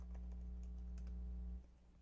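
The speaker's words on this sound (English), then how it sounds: "pardon my typing" Keys tapped on a computer keyboard in quick, irregular clicks over a steady low hum, then stopping near the end of the short stretch; faint and fairly close.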